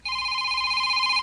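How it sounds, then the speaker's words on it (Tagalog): A cellphone rings with a steady electronic tone, one continuous bright beep held for about a second, loud and close with nothing else around it. "My cellphone is ringing."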